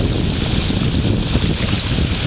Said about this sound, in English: a waterfall coming across the road.